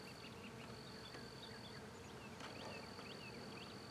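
Bees around a swarm buzz faintly in a quiet outdoor setting, with several thin buzzing passes drifting near and away over a soft steady background.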